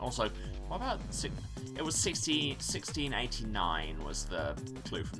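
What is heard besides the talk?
No distinct noise like a dog, phone or traffic.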